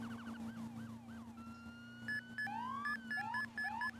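Wailing and yelping sirens from a ladder fire truck in Roblox ERLC, sweeping up and down steadily over a low engine drone.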